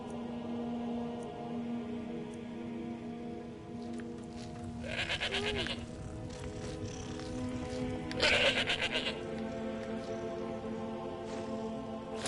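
A goat in the video game Skyrim bleats twice, two drawn-out wavering cries over a steady low game ambience with a faint background hum.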